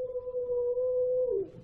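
An abandoned dog howls in the woods: a single sustained tonal howl, clear and fairly close, that holds steady before dropping away at the end.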